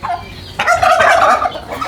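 Turkeys gobble on a Malaysian farm, a short close and loud burst of warbling gobbles rising after a brief quieter call, with no talk.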